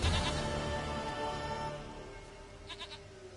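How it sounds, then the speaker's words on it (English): A goat in the video game Witcher 3 gives a loud, drawn-out bleat near the start, followed by a quieter, fainter bleat toward the end. "dearest, sweetest goat."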